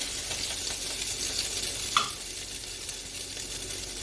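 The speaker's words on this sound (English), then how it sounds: "I'm placing it now into our roasting pan" A seared beef rump roast sizzles steadily as it is set into a roasting pan, a continuous hiss of frying with a brief sharp clatter near the middle.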